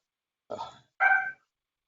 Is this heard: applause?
no